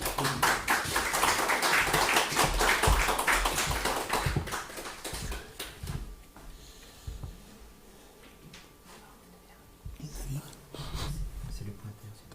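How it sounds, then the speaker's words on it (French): An audience at a peace conference on the Sahel applauds a speaker with dense clapping that fades after a few seconds, followed by a quieter stretch and short bursts of sound. "On applaudit."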